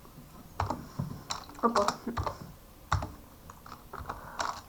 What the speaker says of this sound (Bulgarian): И влизаме в интернет, пишем Скупе.